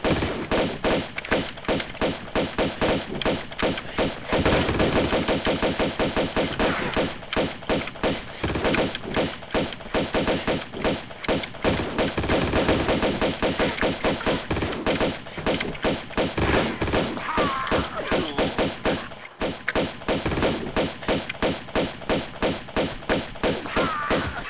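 Gunfire in a video game goes off in rapid repeated bursts, with loud thuds and shots packed densely across the whole stretch. There are only short pauses between volleys.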